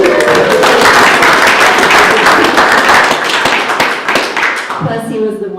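An audience at a distinguished speakers evening applauds a community sponsor, a loud, dense wash of clapping that thins and fades toward the end.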